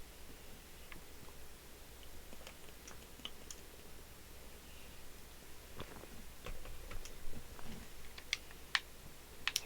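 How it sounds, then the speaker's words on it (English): Game controller buttons click faintly and irregularly while DayZ is played, with scattered light taps that grow a little busier and sharper toward the end against a quiet background, and no voices. "you can definitely hear my controller clicking"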